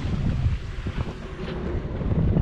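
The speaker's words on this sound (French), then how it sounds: "Donc maintenant on est sous voile." Sailboat under sail on a close reach in a bay off the Lérins islands, making about 6 knots in 10 to 11 knots of wind: steady broadband wind rush buffeting the microphone over low churning water and hull wash, continuous and fairly loud.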